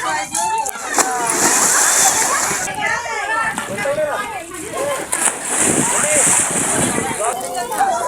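People splash and slosh about in a farmhouse swimming pool, with steady water noise throughout under loud, lively talk and shouting nearby.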